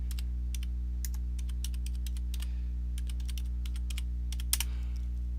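Someone types on a computer keyboard in quick, uneven bursts of key clicks over a steady low electrical hum, close and clear, with no speech.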